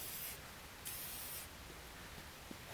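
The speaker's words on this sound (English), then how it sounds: "So I'm just going to spray everything up best I can." Rust penetrant hisses from an aerosol can onto a rusty trailer in short bursts, a faint steady airy spray with a couple of brief breaks.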